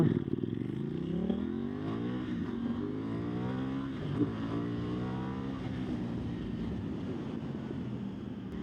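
A KTM Duke 990 motorcycle engine hums steadily while riding, its pitch rising and falling with the throttle under constant rushing wind noise.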